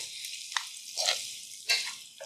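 Vegan breakfast hash frying in a single pan, a soft, close sizzle broken by a few brief stirring scrapes, with no talk.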